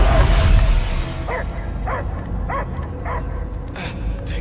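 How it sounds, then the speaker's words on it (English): Dog barking in the Marvel's Guardians of the Galaxy video game, a series of about six short barks or yips spaced at regular intervals over a low rumbling game background. "I hear only barking."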